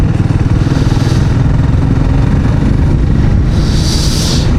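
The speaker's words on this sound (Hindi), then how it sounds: "मैं बाइक की स्पीड रख ही नहीं सकता।" A motorcycle engine drones loudly and steadily at close range while riding a curvy forest road, with a brief rise in pitch near the end and wind buffeting throughout.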